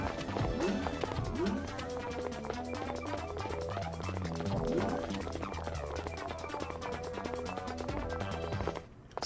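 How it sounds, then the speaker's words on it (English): Rapid, steady footsteps from the video game Custom Robo patter continuously under game music, close and even, stopping abruptly near the end. "So many footstep noises."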